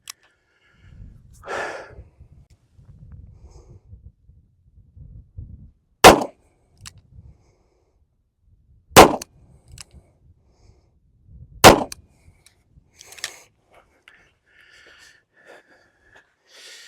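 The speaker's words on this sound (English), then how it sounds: "I'm going to shoot it from single action so that I have the best chance" An old Smith & Wesson Model 10 police revolver fires three sharp, loud single-action shots several seconds apart, with quiet handling noises and breathing between them.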